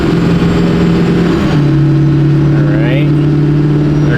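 A rusty, 20-year-old Duramax diesel pickup truck floored at full throttle, its engine droning as a steady, loud, close hum that shifts slightly in pitch partway through and continues unbroken to the end.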